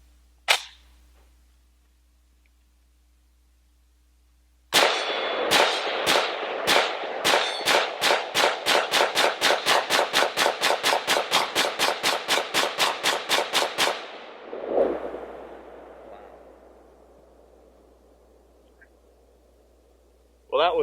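A PAP M92 rifle fitted with a muzzle brake empties its magazine outdoors: one opening shot, a pause, then a rapid string of about thirty loud sharp reports at a steady cadence, ending in a trailing echo and a final distant shot.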